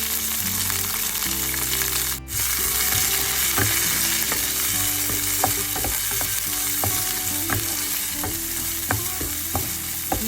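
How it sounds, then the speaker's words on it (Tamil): Chopped shallots, fennel seeds and curry leaves frying in hot oil in a pan give a loud, continuous sizzle, with scattered spatula scrapes and taps throughout. "கருவேப்பிலை சேர்ப்பேன் சின்ன வெட்டி வச்சிருக்கிற சின்ன வெங்காயத்தை சேர்த்தோம்"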